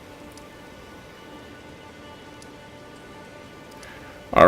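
Steady, soft rainfall in the Elden Ring video game world, a faint even patter throughout that ends in a sudden loud burst of sound, with no voices.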